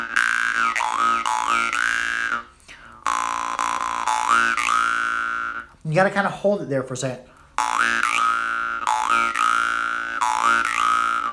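Jaw harp twanging in sustained bursts with wavering overtones, broken by a short stretch of speech, with a stray slap of the player's tongue against the reed; loud and close.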